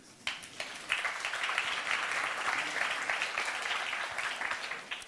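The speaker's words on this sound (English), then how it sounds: "and I think that deserves a big applause." Applause from the audience at an AI conference in Košice rises suddenly and stays as a steady, dense wash of many hands, heard at a distance and fairly faint.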